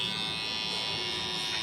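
Electric trimmer buzzing steadily while cutting a man's hair, a close, constant thin hum with a brief louder bump at the end.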